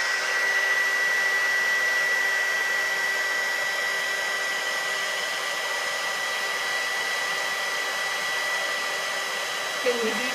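A hot-air heat tool blows steadily onto metal from the side to melt enameling powders, a loud, even whirring rush that runs unbroken for about ten seconds.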